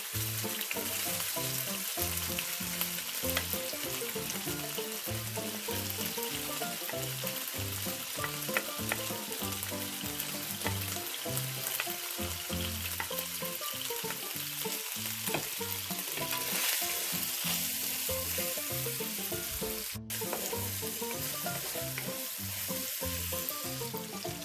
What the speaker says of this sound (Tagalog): Prituhin natin ng kaunti.